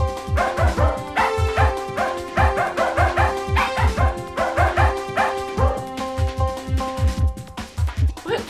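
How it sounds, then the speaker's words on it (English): Dog barking and whimpering in quick repeated yips, a rhythmic series of sharp barks close up, set against music and some speech-like sound. "Can my dog meet Laika?"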